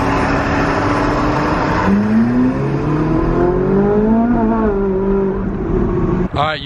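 Ferrari 458 Italia V8 engine revving loudly and close, with rising and falling pitch sweeps as it accelerates through gears, steady and continuous.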